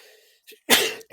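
A single sharp sneeze bursts out close and loud, preceded by a faint intake of breath and followed by a brief small trailing sound.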